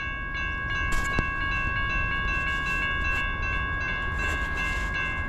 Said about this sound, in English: I got here early enough to catch this westbound. First train of the day.